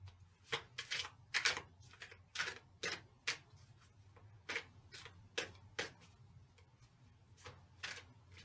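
Tarot cards are shuffled by hand in a quiet room, producing a loose, uneven series of sharp papery slaps and riffles, close and fairly soft, with no talking.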